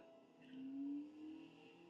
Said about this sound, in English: I like that they gave it the most insane engine sound effect.